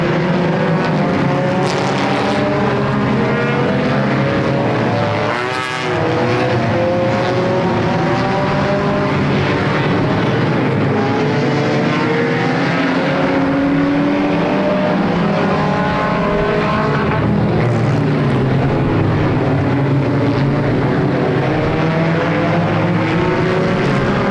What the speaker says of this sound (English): This is Halloween Enduro 250 racing.